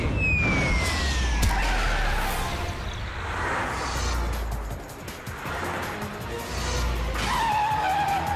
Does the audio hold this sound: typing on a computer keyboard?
no